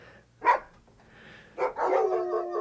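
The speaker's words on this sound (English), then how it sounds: "Do you think those dogs are friendly?" Dogs barking in the video game Blackwater Creek: one sharp bark near the start, then after a pause a second bark running into a longer whining, yelping cry, fairly close and alone.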